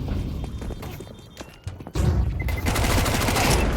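Bursts of MAC-10 submachine gun fire in a Counter-Strike 2 match on the Vertigo map, rapid and loud, with a dense burst in the second half after quieter scattered shots and footsteps.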